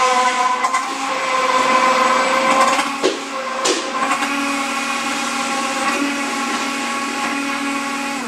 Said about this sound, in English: Okay, so this is the egg whites, and here's the hand blender.